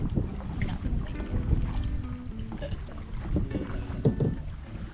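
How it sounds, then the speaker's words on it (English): Canoe paddled upstream along a jungle river, with steady low water and wind noise, faint splashes and soft knocks of paddle strokes close by, no talking. "As we paddled upstream"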